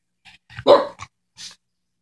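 A female dog barks on command in a quiet room, giving a few short separate barks, one louder and fuller in the middle, with gaps of silence between them.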